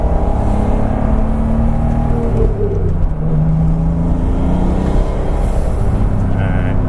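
A turbocharged BMW Z3 M Coupe with an adjusted wastegate drives around town on cool oil, its engine a loud, continuous, close drone with no breaks.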